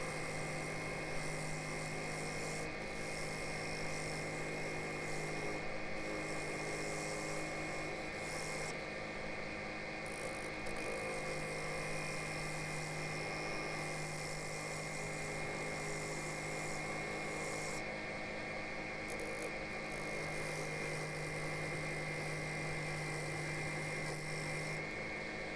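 Wood lathe turning a 20 inch wooden platter while the tool flattens and hollows its face, a steady continuous scraping rasp over the machine's drone, close and unbroken throughout.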